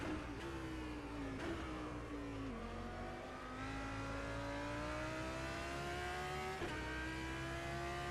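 Audi GT3 race car lapping Imola in the rFactor 2 racing game, its engine a loud, continuous whine that climbs in pitch, drops sharply at gear changes, then climbs again.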